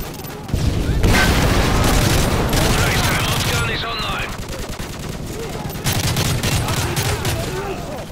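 Rapid bursts of automatic gunfire and heavy booms from a Call of Duty Modern Warfare 3 campaign battle, loud and continuous, with sustained firing across most of the stretch.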